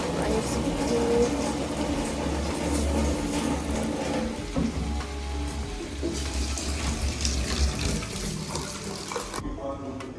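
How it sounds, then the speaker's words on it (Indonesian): Water runs steadily into a pan of sautéed fish for kuah asam keung, an Acehnese sour fish dish. A continuous close pouring and washing sound lasts the whole stretch, with some talk in the background. "Air sedikit."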